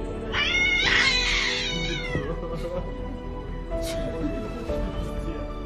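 A cat meows in drawn-out, wavering cries near the start, with further fainter meows later over steady background noise and some voices.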